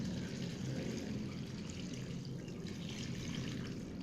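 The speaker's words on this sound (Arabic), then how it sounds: "وهنحط اللبن ونقلب ده كله في بعضه بقى" Buttermilk (laban rayeb) pours into a mixture for rural kamaj bread, a continuous close liquid gurgle and splash at moderate level without pauses.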